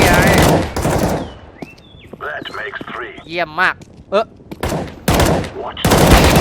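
Loud bursts of rapid automatic gunfire in the video game CS:GO open and close the clip, with someone talking and reacting in between the volleys.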